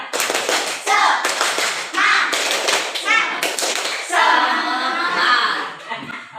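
Schoolchildren in a primary classroom do a spirit clap, bursts of sharp rhythmic handclaps in patterned groups alternating with chanted children's voices, loud and close.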